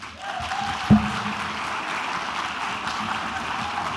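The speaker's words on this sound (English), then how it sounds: "can we give Dr. Obudo another round of applause?" A conference crowd at the Global Data Festival and Kenya Space Expo in Kenya applauds a speaker, Dr. Obudo, with steady, sustained clapping that begins abruptly and fills the hall evenly.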